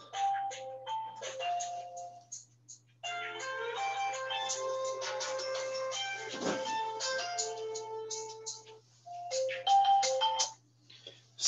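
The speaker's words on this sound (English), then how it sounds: "sorry about the phone there." A phone rings with a repeating melodic electronic ringtone, clear and fairly loud, playing in phrases with short pauses for several seconds over a low steady hum, with no talking.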